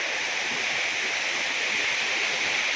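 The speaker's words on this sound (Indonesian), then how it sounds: "aku explore di air terjun Sewawar Sedinding" The Sewawar Sedinding waterfall near Jenawi pours in a constant, dense hiss, broad and steady, with no talking.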